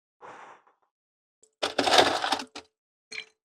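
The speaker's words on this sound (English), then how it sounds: "Well, I got an ice maker here. Here, how many ice cubes would you like?" Ice cubes from an off-grid ice maker run on a power station drop and clatter in a short cracking burst, then a denser rattling tumble for about a second, with a few scattered clinks afterward, fairly close.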